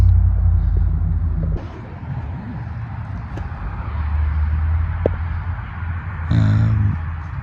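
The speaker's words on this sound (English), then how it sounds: "You can hear the cars starting up again." Car engines rumble at close range, idling and revving before pulling away, with a brief higher whine near the end; steady low noise throughout.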